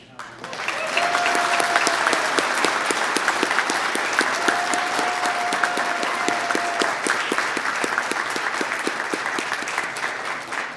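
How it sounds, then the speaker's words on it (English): An audience at a Newport News fire department awards ceremony in 2025 breaks into sustained, dense applause, loud and even for about ten seconds, with a faint voice beneath the clapping. "Will we please give a round of applause for Captain Howard"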